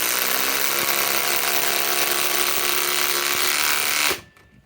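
A Ryobi PSBIW25 compact impact wrench on an 8 Ah 21700-cell battery drives a fastener into undrilled wood, a steady loud buzzing hammer whir running for about four seconds before stopping abruptly.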